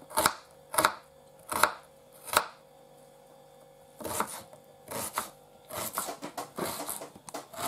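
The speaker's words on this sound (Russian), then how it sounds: "Да, лук надо покрошить." A knife chops one medium onion for a soup base. Four slow, sharp, close knocks on the board come first, then a pause, then a faster, uneven run of chops.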